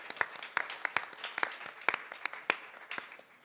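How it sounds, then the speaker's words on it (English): Audience applause at a museum evening event for authors, a modest, small-crowd round of individual claps heard distinctly, steady and fairly close for a few seconds. "So let's just give them a little round of applause."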